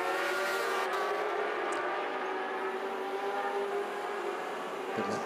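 A racing motorcycle on track at an FIM Asia Road Racing Championship practice session in Zhuhai, China, sends a steady, loud engine drone across the full stretch. Its pitch shifts only slightly, like a machine passing at distance.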